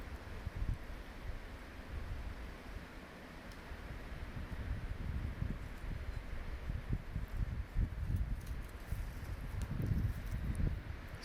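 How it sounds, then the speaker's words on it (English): Wind blowing through trees outside a cabin, a continuous soft rushing with low gusty rumble and faint rustling, steady and fairly quiet throughout, no voices. "Hopefully you can hear the wind in the trees."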